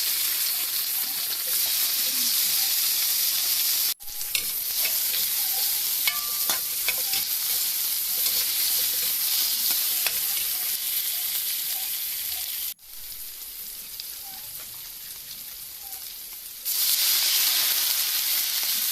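Ginger and tomato sizzle and fry loudly in a hot pan with bursts of stirring, briefly dropping away twice before the sizzle returns.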